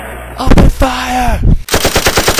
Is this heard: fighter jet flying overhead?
no